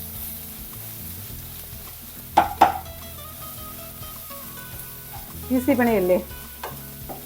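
Spinach and paneer thoran mixture stirred in a pan, with soft scraping and faint sizzling throughout and a few louder clanks of the spoon against the pan.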